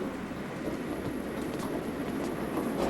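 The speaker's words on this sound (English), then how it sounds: "the train goes fast" A fast train running on an elevated track gives a steady, close rumble with a broad rushing hiss that stays constant throughout, with no voices.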